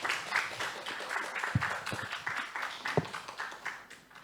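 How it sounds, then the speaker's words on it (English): Moderate applause from a forum audience for panel speakers, a scattered, fairly soft patter of clapping with a few sharper claps standing out. "Let's have our round of applause for our three speakers this morning"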